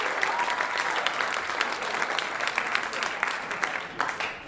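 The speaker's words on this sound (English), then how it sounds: "Yeah, sure. You can clap." Comedy club audience at Gotham Comedy Club in New York breaks into loud, sustained applause, a dense close wash of clapping hands with scattered sharper claps throughout.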